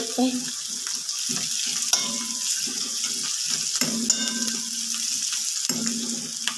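Chopped onions sautéing in a pan for a mixed vegetable stir-fry of ivy gourd, carrot, potato and beans, giving a steady, close sizzle with occasional clinks of a spoon stirring.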